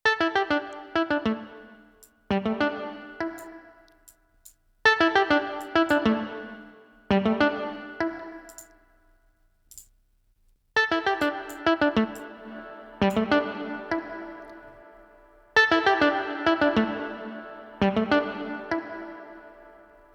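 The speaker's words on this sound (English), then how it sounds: "let's just use some factory presets of SilverVerb to hear the different kind of sounds it can do as a reverb" A repeated plucked musical phrase played several times through SilverVerb reverb plugin factory presets, each pass ringing out with a different amount of reverberant tail, from short room ambience to longer hall wash.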